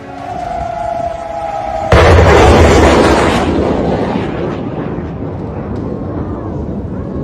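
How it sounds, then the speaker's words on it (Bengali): Missile strikes on the Iranian city of Shiraz at night: a sudden loud, broad blast roars in and rumbles on for several seconds, following a quieter stretch with a steady tone. "ইরানের সিরাজ শহরে পরপর মিসাইল হানা"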